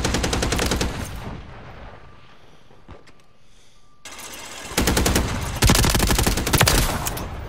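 Rapid machine-gun fire in a crash dummy shooting game, dense fast bursts that start loud, fade into a quieter lull with a few isolated shots, then return even louder and sustained.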